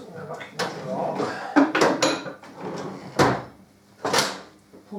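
A metal punch is dropped into a workshop drawer during a Harley Davidson Deuce trike conversion, giving a few close clattering knocks and a sliding thud among soft rustling.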